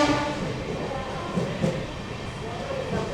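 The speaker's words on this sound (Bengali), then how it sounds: "এবার সিগন্যাল পেয়ে গিয়েছে, ট্রেনের স্পিডও উঠতে শুরু করেছে।" The 22587 Sealdah–Varanasi Amrit Bharat Express gathers speed past Bardhaman station, a steady loud rumble from onboard with rhythmic wheel clatter on the rails and faint talk mixed in.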